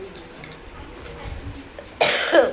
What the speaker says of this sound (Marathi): खोकला खूप झालाय भयंकर